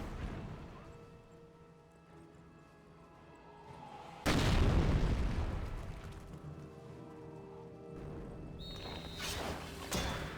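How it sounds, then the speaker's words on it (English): Mortar barrage in a Company of Heroes match: a sudden heavy boom that rolls into a long, loud rumbling decay, with quieter background battle noise and mechanical clatter before it and a few sharper impacts near the end. "Mortar now firing away."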